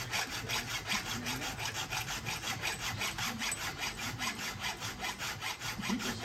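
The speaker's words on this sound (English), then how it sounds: "when you're filing down that raker, you hear that" A flat file rasps back and forth across the raker of a chainsaw chain in steady, even strokes, close and continuous, the rhythmic scraping of metal on metal filling the whole stretch with no talking.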